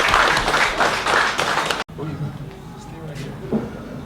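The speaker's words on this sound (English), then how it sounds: "we give a round of applause to Ed and the PIFF team" Audience applause at a film festival gathering rings out loudly for under two seconds, then cuts off abruptly, leaving quieter room noise with some talk.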